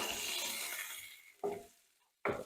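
Browned food pieces sizzle in a pan, a broadband frying hiss filling the first second and a half, followed by two short, sharp bursts of stirring or scraping against the pan between quieter gaps.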